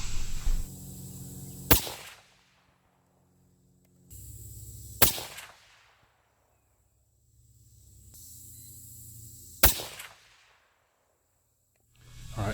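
Three sharp, loud rifle shots firing Norma Bondstrike bullets loaded with Vihtavuori N560 powder, spaced a few seconds apart, each a crisp crack with a fading echo, separated by low background hiss and quiet pauses.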